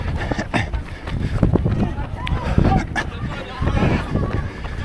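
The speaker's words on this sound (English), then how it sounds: "The wind has been basically behind our backs. It's now coming into our faces." Wind buffets the microphone during a half marathon run, low rumbling gusts and irregular thumps beneath breathing and bits of nearby voices along the course.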